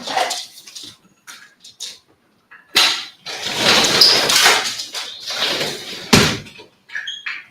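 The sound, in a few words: door being opened to let a dog out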